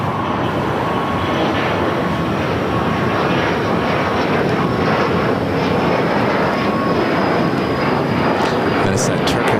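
A United heavy airliner's jet engines roaring as it takes off from runway 25 right at LAX, a loud, continuous rumble with voices faintly underneath.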